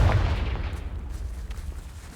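A Confringo blasting spell in the video game Hogwarts Legacy bursts with a single deep, booming blast that hits hard at once and then rumbles away over a couple of seconds.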